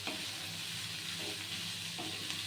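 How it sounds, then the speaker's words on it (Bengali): Washed flattened rice (poha) fries in a pan for a poha pulao, giving a steady close sizzle with occasional scraping stirs throughout. "এবার আস্তে আস্তে ভাজা হবে"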